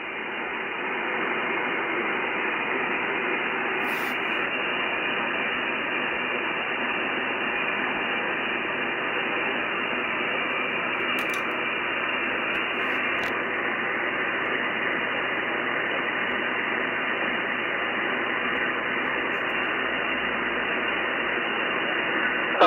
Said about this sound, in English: The QRN is starting to rise on the band.